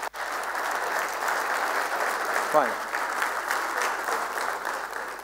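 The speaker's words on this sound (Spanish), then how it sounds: "¿Le podemos dar un fuerte aplauso?" Audience applause on a Spanish-language sports broadcast, a steady wash of clapping lasting several seconds with a brief spoken word near the middle.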